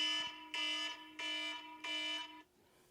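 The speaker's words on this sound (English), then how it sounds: "That's my alarms." An electronic alarm goes off in four loud, evenly spaced tonal beeps, each about half a second long with a buzzy harmonic edge, then it stops.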